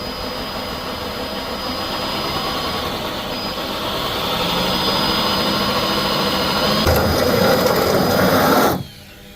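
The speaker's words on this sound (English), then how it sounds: "then you take your 9/16 drill bit" A drill with a 9/16 bit runs continuously, boring into a 1990-1995 Toyota 4Runner roof for a roof rack, its whine rising in pitch and intensity, then cutting off abruptly near the end.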